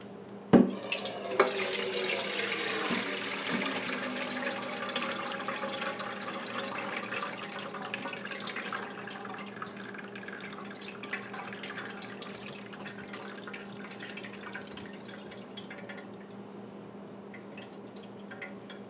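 Boiled giant Irish potatoes are drained through a tri-cornered colander, starting with a sharp knock and then a long, steady rush of pouring, splashing water close by that slowly settles.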